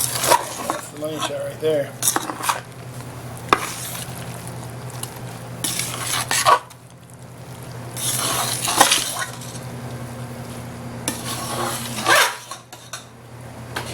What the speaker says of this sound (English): Give it a stir here to incorporate.